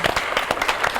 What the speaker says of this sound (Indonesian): Tepuk tangannya dulu, suaranya kalian mana?